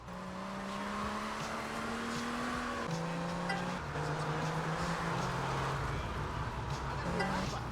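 A Mule truck driven in GTA Vice City Stories on PS2, a steady engine drone that shifts pitch in steps as gears change, with faint tire noise and no talking.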